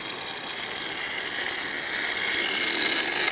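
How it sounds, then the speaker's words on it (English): Gouge making a push cut on a round-bottom wooden bowl spinning on a woodturning lathe, a steady close hiss of shaving cutting that grows slightly louder toward the end, with no talk. "Now I'm going to do a push cut."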